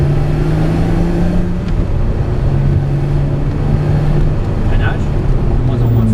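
Car accelerating hard out of a corner on a track during a driving lesson, a steady loud engine drone rising in pitch and held throughout, with an instructor's voice talking over it.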